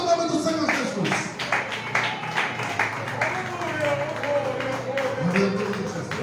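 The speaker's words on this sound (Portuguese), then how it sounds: "Se você crê, aplauda o nome do Senhor Jesus." Church congregation applauding in praise during a Portuguese-language deliverance service, a dense run of clapping over a couple of seconds mixed with voices and music, fairly loud and sustained.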